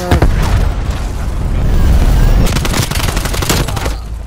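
Rapid PPSh submachine gun bursts in Call of Duty: Black Ops Cold War, loud and dense with booming impacts and explosions, continuous throughout with brief pauses between bursts, no voices.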